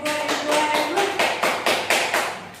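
A classroom claps for a student in a short round of applause, sharp hand claps coming in quick uneven bursts that fade slightly toward the end.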